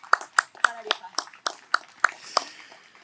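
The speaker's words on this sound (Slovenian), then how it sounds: "velik aplavz v imenu zahvale" An audience at a Ljubljana book event breaks into scattered applause of thanks, a few distinct, sharp claps spread unevenly over a brief, fairly quiet stretch.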